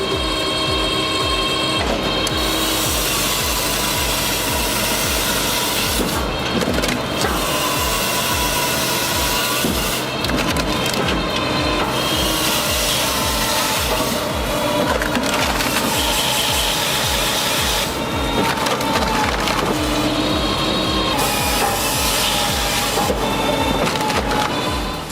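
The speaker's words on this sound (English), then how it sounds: "The Dahlen Vedmasken 2054 log splitter takes firewood cutting to the next level." Dahlen Vedmasken 2054 log splitter working through large-diameter firewood logs: loud continuous machine noise with repeated crunching, splintering wood bursts and rhythmic mechanical pulses throughout.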